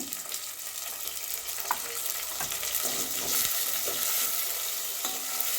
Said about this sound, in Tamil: அந்த பூண்டையும் நம்ம அதை விட சேர்த்து வதக்கிடுவோம்